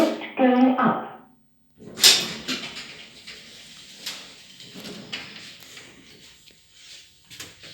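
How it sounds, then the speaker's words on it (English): Thyssenkrupp lift doors opening at a shopping centre in Canary Wharf, with a short sliding rumble followed by hollow interior ambience, after a brief spoken announcement. "Doors opening."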